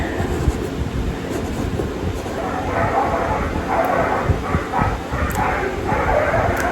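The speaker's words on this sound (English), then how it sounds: "I don't know what the dogs out there are barking at." Dogs barking outside beyond a fence and gate at a home in Mexico, several scattered barks at a distance mixed into a rumbling, noisy background.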